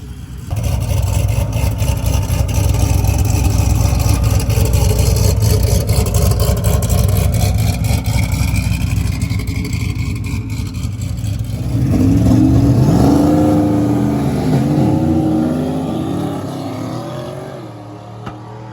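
A turbocharged Hemi-powered Notch Cuda and a Ford truck run a drag race, a loud sustained engine roar building for several seconds, then a shift to a lower, fluttering revving note that fades toward the end.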